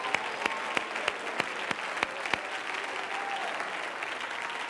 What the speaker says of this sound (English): Come on, clap your hands and give God praise.